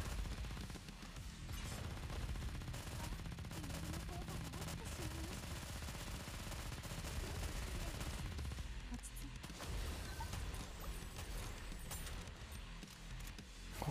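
Rapid gunfire in the video game Goddess of Victory: Nikke rattles on continuously in dense, overlapping bursts, a quiet steady barrage with no clear pauses and no one talking over it.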